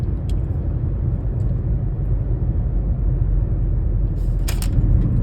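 Steady, loud engine and road rumble fill a car cabin while driving, with a constant low drone and a brief brighter rattle or whoosh near the end; no one speaks.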